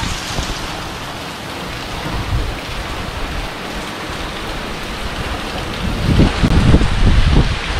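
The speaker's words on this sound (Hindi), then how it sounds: "अभी यहाँ पर बारिश बहुत तेज़ हो चुकी है." Heavy rain pours without a break during Cyclone Yaas in Bengal, a dense, steady hiss with low rumbling gusts of wind that swell toward the end. No voices are heard.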